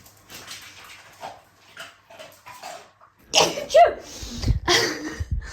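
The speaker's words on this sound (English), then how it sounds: "I was holding in a sneeze." A sudden, sharp human sneeze bursts out loudly and close, following a stretch of quiet, soft indoor sounds with a dog nearby.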